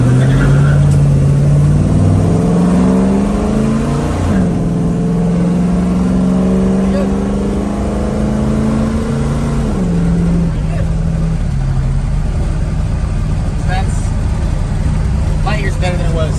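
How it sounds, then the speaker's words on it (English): A car with noisy lifters and backfire problems revs as the throttle is applied, its engine pitch rising and falling through several loud, close sweeps while people talk over it. "Alright, so I'm going to give it a little bit of throttle."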